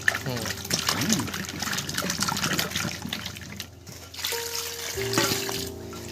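Running tap water splashes steadily over about one and a half kilos of new potatoes as they are washed in a kitchen, with a voice talking over the flow.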